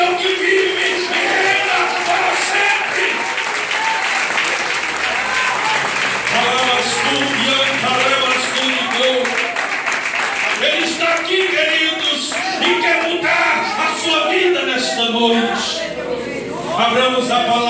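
Church congregation at an Assembleia de Deus service breaks into loud, sustained applause that fills the room steadily for nearly eighteen seconds, with voices and crowd noise mixed into the clapping.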